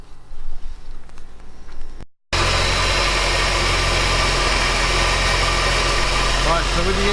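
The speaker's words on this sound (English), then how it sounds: "so with the engine running now" After a brief silence, a supercharged car engine starts and settles into a loud, steady idle with a constant low rumble.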